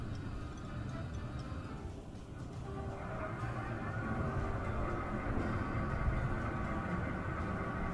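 A model Santa Fe Super Chief with three engines and six cars climbs a 6% grade out of a shop storage area, giving a steady, continuous rolling rumble with faint ticking that grows slightly louder over time.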